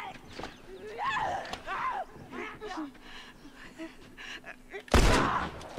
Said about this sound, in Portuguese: Eu quis dar um tiro de teste.